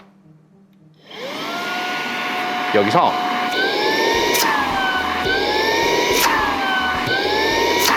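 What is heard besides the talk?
cordless vacuum cleaner running in basic mode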